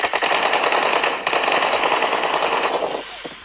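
Sustained automatic gunfire in the video game PUBG, a dense rapid burst that runs nearly unbroken for about three seconds, loud and close, then cuts off into a quieter tail.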